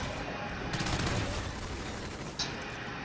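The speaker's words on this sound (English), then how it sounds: "Why are we using our machine guns?" Machine gun fire in the co-op shooter Exodus, a dense rattle of rapid shots layered over steady game noise, one brief burst rising out of it before it settles back to a constant din.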